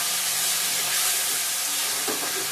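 Water poured into a hot pan of cooking mango chutney hisses loudly in a dense, steady rush of steam and sizzle, close up, with a faint stir near the end.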